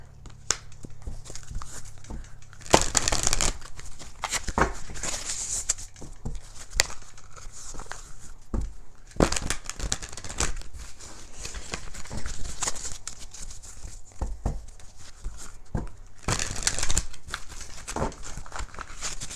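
A tarot card deck being shuffled by hand, several bursts of riffling and crinkling card noise at close range with quieter handling between them, no voice.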